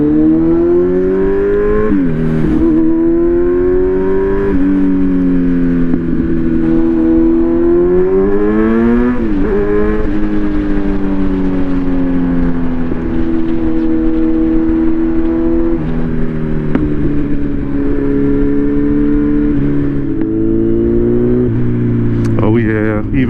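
Kawasaki Z900 motorcycle with a Brock's Performance ECU flash, its engine loud and close as it accelerates with rising and falling revs and then eases into smooth engine braking as the throttle closes.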